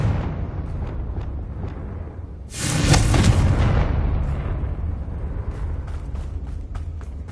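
A Confringo fire spell blasts in the Hogwarts Legacy video game, a loud, sudden boom with a roaring rush that swells and slowly fades over a few seconds, rising out of a steady rumbling game background.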